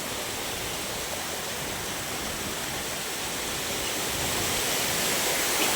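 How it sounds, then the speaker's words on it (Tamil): Water rushes and spray falls at a small waterfall, filling the clip with a dense, steady hiss that swells slightly toward the end, with no voices heard. "இந்த இடத்துல கொஞ்சம் சாரல் மேலே ரொம்ப விழுது"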